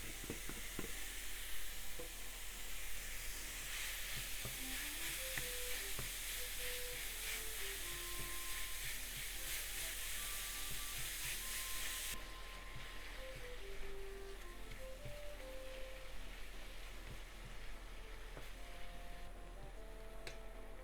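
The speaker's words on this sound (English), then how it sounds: "Heat up frying pan over medium heat and let's cook the meat first." Meat browns in a frying pan over medium heat with no oil, rendering its own fat; a steady close sizzle and crackle runs throughout with occasional ticks of stirring, while quiet background music plays underneath.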